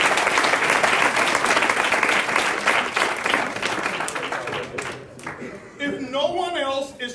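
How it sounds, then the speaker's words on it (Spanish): An audience at a talk by the iBuumerang CEO in Spain breaks into loud sustained applause that gradually thins, then a voice speaks over the last scattered claps. "Vamos a darle un aplauso."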